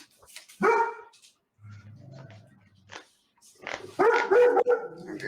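Dogs barking indoors near the player's room: a short burst of loud barks, a softer whimpering stretch, then another cluster of sharp barks close to the microphone.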